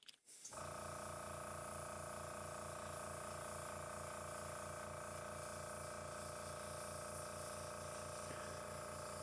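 Airbrush pushing air through after clearing, a steady continuous hiss with a mechanical hum from a compressor, sustained and even throughout after a brief quiet start.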